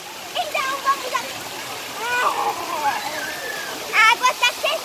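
Warm water splashes and flows at the Hot Beach water park, a constant rushing wash with bursts of splashing, while children's voices and shouts rise over it close by.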